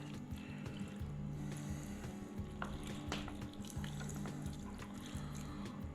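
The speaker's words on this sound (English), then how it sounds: "Now we're gonna add some water." About a cup of water being poured over shredded cabbage packed for homemade sauerkraut, a soft, continuous trickle and splash at close range, fairly quiet, without speech.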